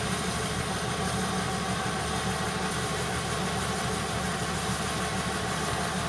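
A metal lathe turns at 380 RPM, taking a cut on steel stock with its chrome removed while making a spade drill MT3 adapter. It gives a steady, unbroken machine hum and broadband whir throughout, with no talk.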